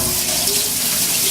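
Water runs steadily from a kitchen sink tap in a continuous close, loud rush, alone with no voices.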